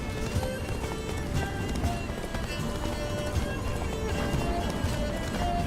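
Geralt's horse Roach galloping in The Witcher 3: Blood and Wine, rapid continuous hoofbeats at full run over a dense game soundscape, no voices heard.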